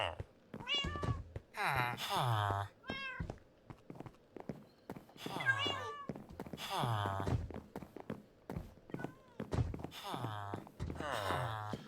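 Cats in a Minecraft house mewl again and again, the meows coming in clusters, moderately close, while a voice talks now and then between them.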